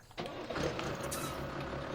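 A big tractor engine in Farming Simulator 17 cranks into life after a brief silence, then settles into a steady low rumble that fills the rest of the short moment.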